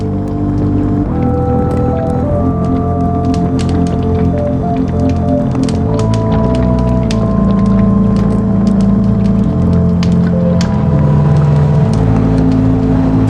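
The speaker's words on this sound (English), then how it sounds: "The engine turns over, and I see fuel stream from a hose beneath the engine." Car engine cranking and turning over in The Drifter video game, a steady mechanical drone with shifting tonal layers, continuous and fairly loud with faint clicks on top.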